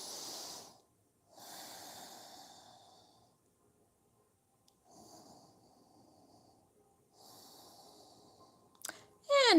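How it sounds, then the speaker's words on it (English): Slow nasal breathing during a yoga session, several long airy inhales and exhales separated by quiet pauses, close and fairly soft, with a brief sharper rustle at the end. "Breathing through your nose."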